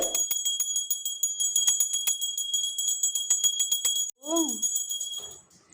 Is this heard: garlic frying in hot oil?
no